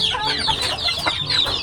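High, busy peeping of many ducklings, overlapping peeps in a steady chorus close by, with no talking.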